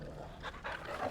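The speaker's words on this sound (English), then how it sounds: "Clive, pet the dog." A dog panting in the video game Final Fantasy XVI, soft, rhythmic breathy puffs with a faint whimpering edge, close but quiet against a low background hum.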